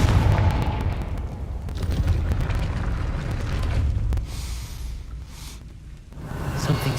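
A Confringo blasting spell fired in Hogwarts Legacy, heard as a loud rumbling burst with crackling debris that rolls on for several seconds, dipping and swelling again near the end.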